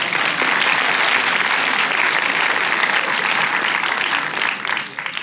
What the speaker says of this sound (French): On peut applaudir Mathieu.